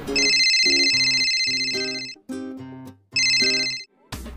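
A phone rings with a loud, bright electronic melodic ringtone while a call is being placed. Short repeating musical phrases play alone, with brief gaps between them.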